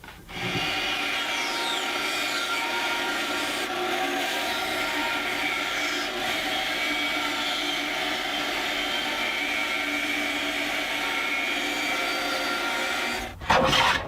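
A No. 5 hand plane is pushed along a board edge, a continuous shaving rasp that runs steadily up close for the whole stretch, with a brief louder knock right at the end.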